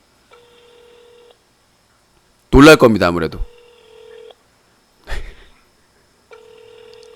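A ringback tone pulses in steady, evenly spaced bursts during an outgoing phone call, with a voice speaking briefly between the rings.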